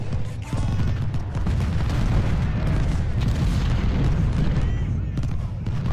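Artillery fire from a Civil War battle in the strategy game Ultimate General: Civil War sounds as a dense, continuous rumble of overlapping booms and distant cannon shots, with no gaps between them.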